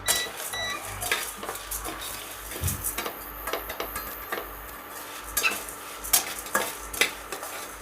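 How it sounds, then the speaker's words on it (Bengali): Moong, arhar and chana dal dry-frying together in a pan, with repeated scraping and stirring strokes, clinks of a utensil against the metal and a soft sizzle underneath, close and irregular, with no talking. "এখন আমি এর মধ্যে অড়হরের ডালটা দিয়ে দিচ্ছি, আর দিয়ে দেবো আমি এখানে ছোলার ডাল, দিয়ে আমি একসঙ্গে অল্প 5 মিনিটের মতন ভেজে নেব।"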